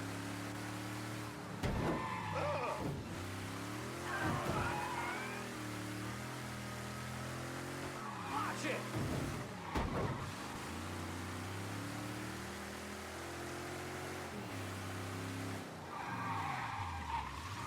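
Cars in Mafia III city traffic with engines revving and changing pitch and tires squealing in several sharp skids, loud and close, with vehicles accelerating and sweeping past throughout.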